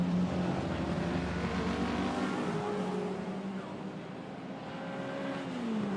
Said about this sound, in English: listening to a large V8 rumbling